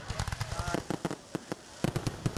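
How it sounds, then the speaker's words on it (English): Fireworks display on the town common in Greenville for a Fourth of July Freedom Fest: rapid crackling bursts and sharp pops in irregular clusters, loud and fairly near, with some voices in the background. "the city of Greenville hosted a large fireworks display in the town common"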